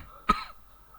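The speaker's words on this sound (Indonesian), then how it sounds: "Ya maaf teman-teman ya, ini sedang batuk ini." A single short cough comes from a person at close range during a spreadsheet tutorial, then the room goes quiet.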